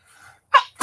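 A single person's sneeze lands sharp and loud near the end, after a fainter breathy intake, close to the listener with no talking.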